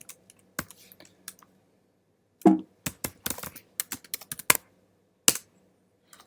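Computer keyboard keystrokes entering Python code, sparse clicks early then a busier burst of quick taps with short pauses, close and fairly quiet, no voices.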